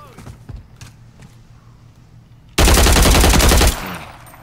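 Video game gunfire erupts as a loud, rapid automatic burst lasting about a second, following quieter clicks and background game sounds, with a voice at the edges.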